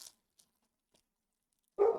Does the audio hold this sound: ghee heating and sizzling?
no